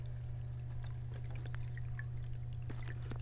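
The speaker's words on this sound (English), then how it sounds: "Now the water's coming out, but that is not going to aerate the tank." Water pours steadily out of an aquarium filter into the tank, a continuous faint splashing trickle over a constant low mechanical hum.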